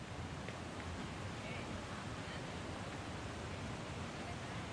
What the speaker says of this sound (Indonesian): Oke, sekarang kita lagi di air terjun Jumok.